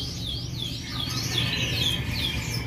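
Scotch Fancy canary singing, a run of bright rising and falling warbled phrases over a steady low background hum, continuous and fairly clear throughout.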